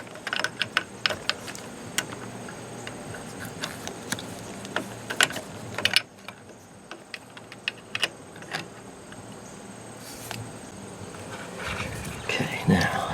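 A right-angled Phillips screwdriver works on the shift linkage of a Mercruiser Alpha 1 stern drive, giving close, irregular sharp clicks and metallic taps over a steady low background noise, with a brief quieter pause midway.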